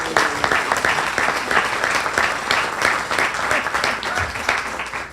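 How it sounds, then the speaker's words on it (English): A standing audience at a legislative update luncheon gives a round of applause for an intern, brisk and dense clapping throughout, with a hint of voices mixed underneath. "please stand for a round of applause"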